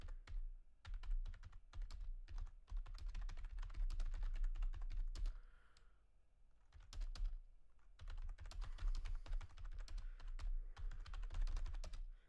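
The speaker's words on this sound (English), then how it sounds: "Almost done typing this long thing." Steady, rapid typing on a computer keyboard clatters on for several seconds with brief pauses, close and fairly quiet, with no talk over it.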